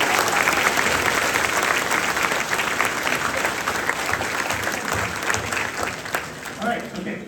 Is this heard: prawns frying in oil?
no